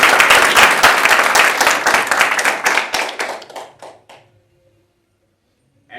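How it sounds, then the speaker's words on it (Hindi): An audience at an aerobic yoga group's ceremony applauds the gents' club with loud, thick clapping that gradually thins out and fades after about four seconds. A brief quiet gap follows before a faint sound at the very end. "तो चलिए जेंट्स ग्रुप के लिए तालियां बजाएं।"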